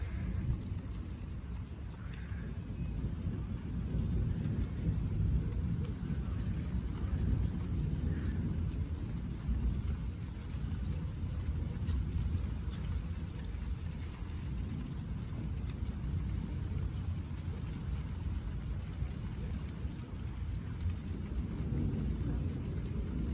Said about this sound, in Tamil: நல்லா இடி இடிக்குதுங்க.